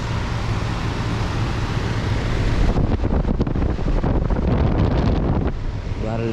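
2012 Goodman SSZ14 2.5 ton heat pump starting up and running in heat mode; a loud, steady broadband rush of fan and airflow that shifts to a rougher, fluttering tone partway through, heard close with no voices.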